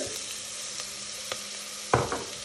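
Ginger garlic paste frying in a pan, a steady sizzle punctuated by a few sharp spatters and a louder crackling burst toward the end, close by with no talking.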